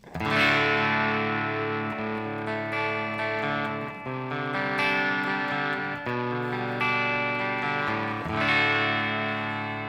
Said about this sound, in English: Let's go with some clean tones here.